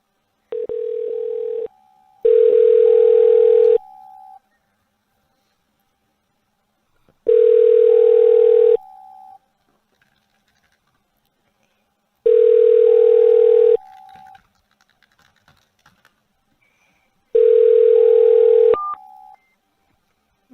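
A phone line gives repeated ringback tones while calling a scam number posing as Social Security, each loud, steady burst lasting about two seconds and followed by silence, in a regular pattern with no voices.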